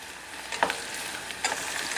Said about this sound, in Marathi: त्यातच आता आलं लसूण कुटलेलं घातले.